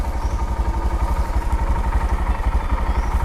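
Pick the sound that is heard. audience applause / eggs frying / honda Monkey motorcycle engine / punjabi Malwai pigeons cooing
honda Monkey motorcycle engine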